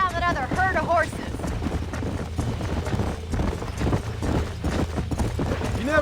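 Horse hooves clip-clopping at a steady pace while tracking a herd in Red Dead Redemption, mixed with wind noise and background music, with people talking over them.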